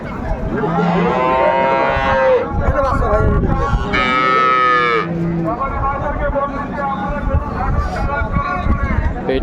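Dairy cow and calf mooing at a livestock market in Raniganj, Dinajpur, with a few long, loud, close calls as people talk nearby.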